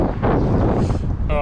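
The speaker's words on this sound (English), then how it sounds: "As you can probably hear, it's pretty windy here" Strong wind buffets the microphone at a cyclocross course, a dense roaring rush of gusts filling the whole moment, loud and close.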